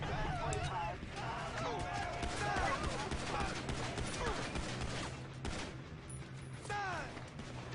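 Gunfire from shooting police in the video game GTA 5, rapid bursts of shots and clattering impacts mixed with game sound effects and chaotic noise, loud and dense throughout.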